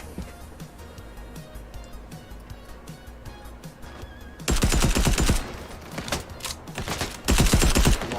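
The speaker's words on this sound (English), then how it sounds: "long-range still SMG shots" SMG fire in the video game Fortnite, with dense rapid bursts that start partway through and come back in a second loud burst, set against quieter game sounds.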